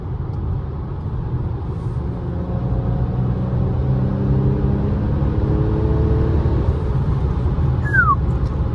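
A Mercedes C300 car pulls hard, its engine and road rumble building in a low, steady drone from inside the cabin, with a crow cawing briefly near the end.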